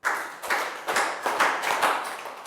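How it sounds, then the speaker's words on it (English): A school class claps together five times, each clap a sharp, crisp burst of many hands spaced about every second or two, near and loud in a room, with no talking. "And to finish, we'll do 5 claps."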